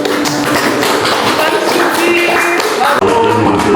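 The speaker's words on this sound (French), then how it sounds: "On applaudit." People applauding at a birthday surprise in Guadeloupe, a dense run of hand claps held at a steady, close, loud level throughout, with voices mixed in and a brief break near the end.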